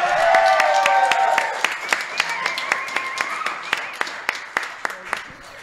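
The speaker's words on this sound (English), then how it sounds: "So please cheer for Skicks" Audience cheering and clapping, a dense wash of applause and voices that thins into a run of sharp, evenly spaced claps near the end.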